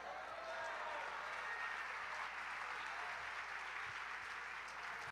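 Steady, continuous applause from a large church congregation, dense and sustained throughout with no pauses, clapping blending into an even wash of sound.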